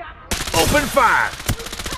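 Gunfire in the shooter Farlight 84, a loud burst of rapid shots starting abruptly and continuing as a dense, crackling volley mixed with a short game voice line.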